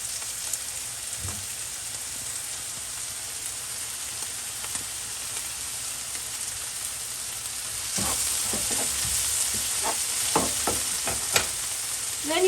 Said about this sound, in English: we are going to put our mushrooms, just like that. Once your mushrooms are almost ready, what you do, you're going to squeeze 2 cloves of garlic.